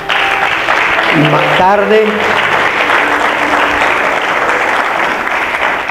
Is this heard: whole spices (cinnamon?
no